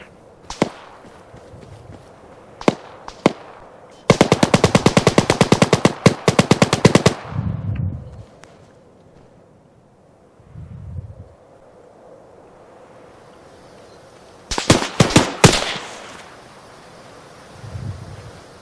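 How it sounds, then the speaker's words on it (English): Gunfire in ArmA 3: bursts of rapid machine-gun fire and scattered single shots, some loud and close, others more distant, with quiet wind-like gaps and low thuds between them. "You guys shooting at friendlies over there?"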